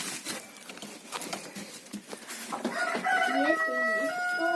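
A rooster crows loudly in a village henhouse in rural Ukraine, its rising, wavering call entering midway and holding strong to the end, after scattered rustling and patter.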